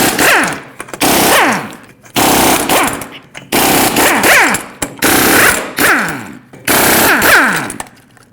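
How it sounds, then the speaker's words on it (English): A pneumatic impact wrench with a 21mm socket spins off the lug nuts on a 2005-2021 Nissan Frontier rear wheel, sounding as six loud, rattling hammering bursts, each about a second long and separated by short pauses. "use a 21mm socket, remove all 6 lug nuts, and then pull the wheel off"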